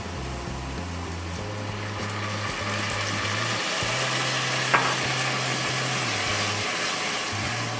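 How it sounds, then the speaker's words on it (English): Dry white wine bubbling in a hot pan while deglazing for a quick fish stew, a steady loud sizzle and hiss with a low hum underneath and one brief clink. "it's called deglazing the pan"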